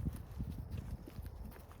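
Soft, steady clip-clop of an old gymkhana horse's hooves at a walking pace, fairly close and continuous throughout, with no talking.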